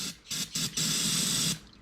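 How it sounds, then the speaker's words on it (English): Carbon air intake cleaner sprays into a dirt bike's gas tank in a few short hissing bursts, then one longer steady spray, loud and close. "just use some good old carbon air intake cleaner, spray it in the tank for a little bit."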